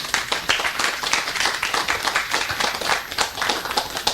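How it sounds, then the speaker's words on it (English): An audience at an engineering college inauguration applauds after a talk with brisk, dense clapping. The many hands sound close and lively, keeping a steady level throughout. "I do deserve one thing, that is called applause from you."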